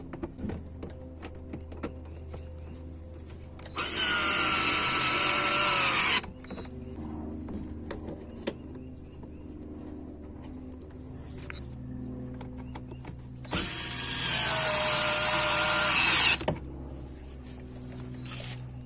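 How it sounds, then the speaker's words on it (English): A power drill drives headlight screws back into a 2016 Chevy Traverse in two close, loud bursts of steady whirring, each lasting a couple of seconds and separated by quiet handling noise. "And all you do is just put the screws back in."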